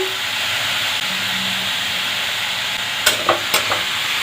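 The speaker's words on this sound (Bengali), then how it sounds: "এবার একটু এক মিনিট মতন নাড়বো" Red spinach fries in a pan with salt and turmeric, giving a continuous close sizzle and hiss, then a few sharp scrapes and clatters of a spatula stirring near the end.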